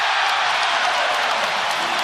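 A packed basketball arena crowd roars loud and continuous during Game 3 of the Cavaliers versus Raptors playoff series in Toronto, cheering after Kyle Lowry's basket, a dense wash of noise with no distinct voices.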